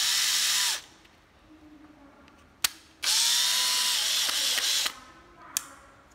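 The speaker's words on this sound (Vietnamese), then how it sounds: "Rồi, đây là cấp khoan luôn." A used Japanese cordless drill switched to drill mode revs up in two loud, high whirring bursts with brief pauses and clicks between them, close and alone.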